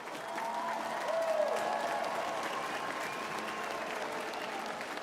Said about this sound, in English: let's give Mr. Wilton Littlechild a big round of applause